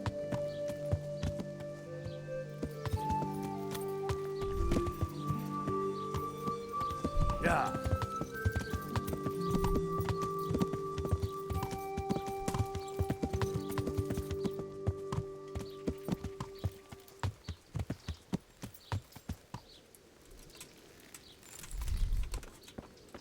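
In Kingdom Come: Deliverance, a horse's hooves clip-clop steadily on hard ground, with a neigh partway through, while someone talks continuously over the game sounds.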